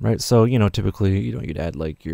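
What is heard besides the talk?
None of the usual background noises is heard.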